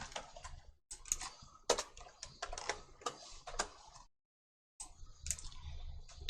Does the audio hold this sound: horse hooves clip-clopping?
no